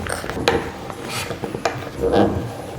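An embroidery hoop being tightened, heard as a short run of small mechanical clicks and ratcheting creaks, with a few sharp ticks and a longer grinding twist near the end, close by and with no talking.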